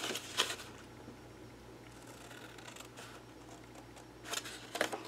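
Scissors snip through paper pieces for a gift box journal craft, a few quiet crisp cuts spaced apart in a hushed room.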